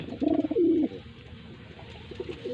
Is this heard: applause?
no